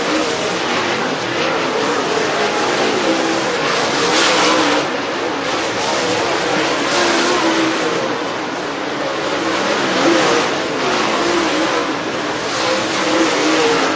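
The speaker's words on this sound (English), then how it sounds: "Green flag is in the air, underway. Flight 1, Group 2 of our Dirt Draft Hot Laps." Dirt track race cars running hot laps at Duck River Raceway Park, a dense, continuous roar of several engines close by, revving and droning steadily without a break, with faint crowd or announcer noise mixed underneath.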